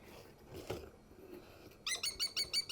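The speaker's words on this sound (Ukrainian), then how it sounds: "Ти дика пташка, так?" Wild bird calling at close range, a faint call early on followed by a rapid series of five or six sharp, high chirps near the end.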